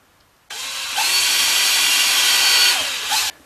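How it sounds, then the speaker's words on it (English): A power drill bores holes into a wooden guitar body, a close, loud whine that starts abruptly, steps up in pitch and holds steady for a few seconds before cutting off. "no point in drilling the holes any deeper than they actually need to be."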